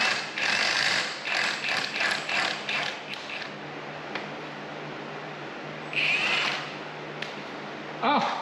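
A simple 3-jaw puller ratchets against a part on a log splitter's Predator Max 6.5 hp engine, giving a series of close clicking, creaking mechanical bursts with pauses between them.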